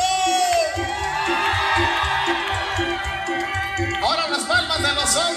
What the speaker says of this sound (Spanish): Ese grito que se escuche bonito